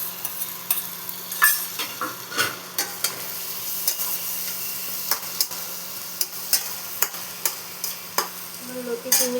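Fried prawns stirred with taro stolons in a pan, a low sizzle under regular scraping strokes of a spatula, close and repeated about once a second.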